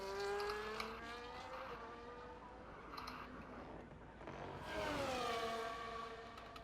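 Ferrari race car in a racing game, Mexico circuit, its engine whining through rising and falling gear tones as it crosses the line, a steady tonal roar that climbs again near the end.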